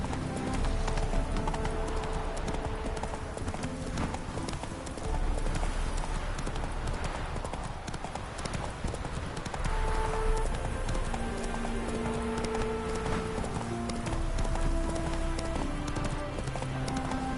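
Roach, the horse in The Witcher 3: Wild Hunt, gallops across uneven ground with steady, rapid hoof clip-clops. The hoofbeats are continuous and close, with game music playing underneath throughout.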